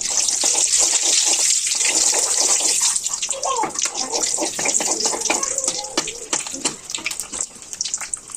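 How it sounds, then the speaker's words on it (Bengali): Puchka puris dropped one by one into hot oil, with continuous loud sizzling and bubbling and irregular crackles as each piece hits the oil, heard close with no talking. "তেল গরম হচ্ছে। এক এক করে দিয়ে দিচ্ছি"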